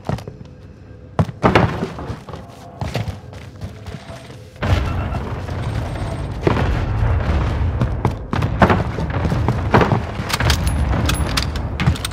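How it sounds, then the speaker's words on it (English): An allied cluster strike in Warzone Rebirth, heard as a run of heavy thuds and booming blasts, some close and sharp, others duller, landing in irregular bursts across a noisy game backdrop. "Allied cluster strike inbound"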